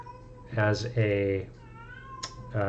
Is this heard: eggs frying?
no